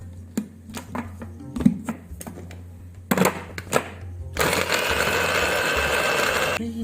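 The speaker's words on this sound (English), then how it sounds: "I put the onion and the garlic in the food processor and I'm going to finely chop it" A food processor whirs steadily as it finely chops onion and garlic, preceded by several sharp clicks and knocks of the lid and bowl being handled, then a loud continuous buzzing blade run that lasts a couple of seconds.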